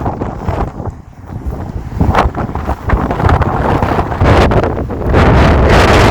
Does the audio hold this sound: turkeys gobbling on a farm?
no